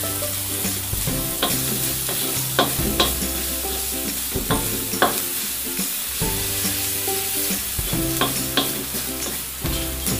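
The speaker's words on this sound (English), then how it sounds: "I'll just be adding a little bit more olive oil. And then there goes the garlic." Garlic fries in olive oil in a pan, a loud, dense, continuous sizzle with repeated sharp stirring taps and scrapes throughout.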